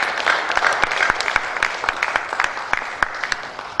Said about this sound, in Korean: 다시 한번 박수해 주시면 감사하겠습니다